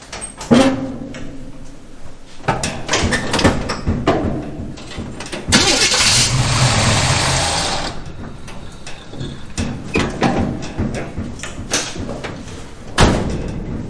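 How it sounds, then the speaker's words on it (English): A 1951 Henry J car engine cranks with a ratcheting starter, catches and fires, then runs and revs unevenly at close range, with mechanical clatter and a door-like clunk near the end. "now we can try to crank it"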